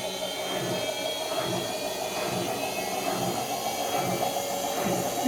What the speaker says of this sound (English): There she goes, spinning away.